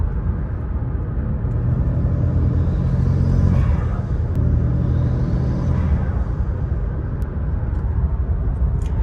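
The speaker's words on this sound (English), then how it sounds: "this is literally like 1500 RPMs. I'm letting the car warm up. It sounds insane." A car running on E85 warms up at a fast idle around 1500 RPM, giving a loud, steady low rumble that swells slightly now and then, with no talking over it.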